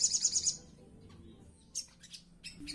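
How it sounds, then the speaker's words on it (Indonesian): A songbird's bright, high chirps: a rapid trill at the start, then a few separate short calls after a pause, with low background rumble. "burung shogun saya ini sekarang sudah sangat gacor sekali"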